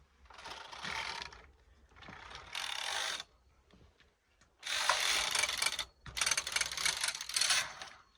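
A Brother KH910 knitting machine carriage sliding across the needle bed, selecting needles with bursts of clattering ratchet-like mechanical rattling in several separate strokes, close and fairly loud with short pauses between.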